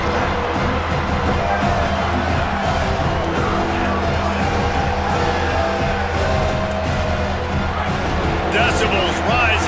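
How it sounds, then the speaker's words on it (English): Stadium crowd in EA Sports College Football rumbling and roaring steadily in a continuous wash of cheers behind a third-down defensive stand, with a brief swell of whoops near the end. "Decibels rising as the crowd gets behind this defense on 3rd down."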